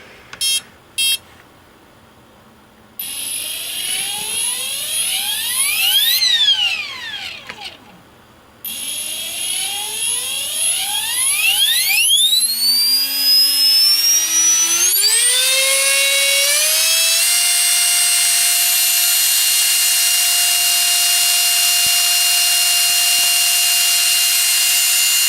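A T-REX 450 RC helicopter starts up, with a few electronic beeps, then a high whine that climbs in pitch and settles into a loud, steady motor and rotor drone. It is close and there is no speech.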